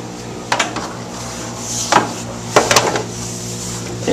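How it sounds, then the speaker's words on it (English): While an aquaponics fountain is being assembled, its pump is attached, producing a few close, sharp plastic clicks and knocks in short clusters over a low steady background hum. "I'm going to go ahead and attach the pump"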